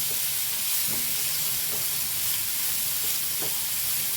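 Grated coconut and horse gram sizzle steadily in a hot pan, a continuous frying hiss with soft stirring scrapes recurring every second or so, close by with no talking.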